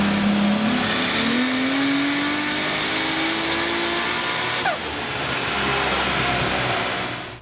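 A tuned Nissan RB26 straight-six on a dyno, running higher boost after a valve float fix, roars under load with a pitch sweeping steadily upward for several seconds before a sharp shift and continued hard revving.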